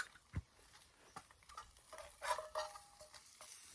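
Spam being turned in a hot old skillet at a campsite, soft stirring scrapes and faint sizzling with a few light clinks of the pan, quiet and close, with no talk.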